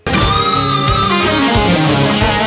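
A Les Paul electric guitar plays the next phrase of a solo, with saturated, overdriven sustained notes and a bending melodic line over a thick, dense tone, loud and alone.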